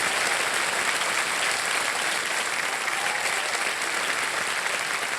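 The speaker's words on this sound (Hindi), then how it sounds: "तालियां बज जाए जोरदार" A studio audience on a televised quiz show breaks into loud, sustained applause, a dense, even wash of clapping that holds steady throughout without any voices over it.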